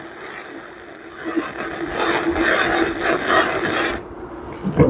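The arc of an Andeli MIG-250 flux core MIG welder gives a steady, crackling hiss, fairly consistent and close, rising slightly in intensity before cutting off abruptly near the end.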